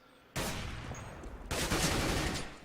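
Rapid bursts of gunfire from the game Counter-Strike: Global Offensive on the map Train during a professional match, two loud sustained volleys close by with no talk over them.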